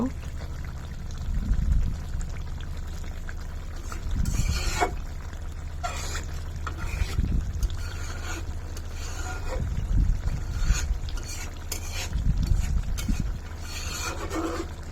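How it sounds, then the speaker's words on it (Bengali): A pot lid is lifted and a fish curry with bean seeds is stirred, giving scraping and rubbing sounds over steady low cooking noise, with speech heard now and then. "এখন ঢাকনা খুলে আবার নেড়ে দিব।"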